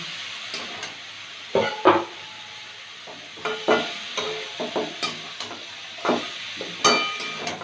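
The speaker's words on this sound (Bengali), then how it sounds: "ব্রকুলিটা আর ভাজবো না, হালকা করে ভেজে নিলাম।" Broccoli being lightly fried in a pan, with repeated clattering scrapes and knocks of a utensil stirring against the pan over a soft sizzle, arriving in irregular close bursts.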